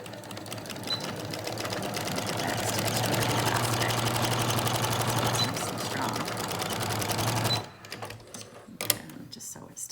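A sewing machine stitches a rounded beak style washable fabric face mask, running steadily and loudly for about eight seconds before stopping, with a few light handling clicks afterward.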